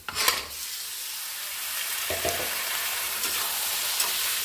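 Chicken meat fries in a pan with onion, ginger and garlic, a loud steady sizzle that flares when the meat is stirred, with no talking.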